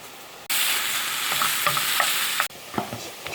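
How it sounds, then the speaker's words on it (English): Chopped onion is stirred in a hot pan for a bacon, beef and beer stew. A loud sizzle cuts in abruptly under repeated scraping stirs, then drops away to a few scattered clinks. "Keep giving it a little stir like this here"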